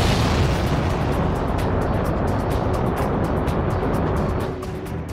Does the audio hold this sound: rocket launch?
yes